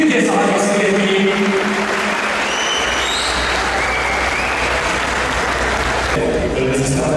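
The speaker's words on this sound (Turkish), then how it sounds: "Alkışlarınızı lütfen bir kez daha esirgemeyin." Sustained audience applause fills a hall at an international robot competition, steady and dense for several seconds, with an announcer's voice over the start and a faint musical tone.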